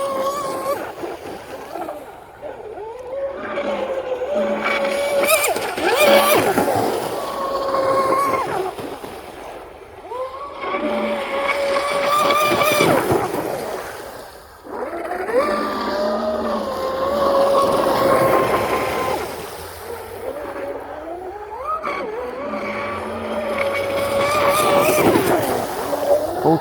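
An RC boat, a Recoil 17 or Blackjack 42 under rudder blade testing, whines over the water in repeated high-pitched runs that rise and fade, with a voice speaking briefly at times.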